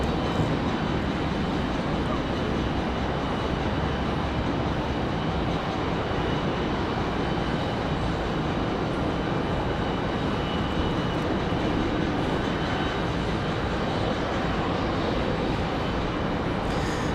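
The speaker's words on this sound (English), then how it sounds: "Next arrival, Envoy 3490 coming in from DCA. 41 minutes of flight time. That E175LR is on final." An Envoy Embraer E175LR airliner on final approach at Raleigh-Durham International Airport, heard as a continuous, loud, broadband jet roar that holds steady throughout.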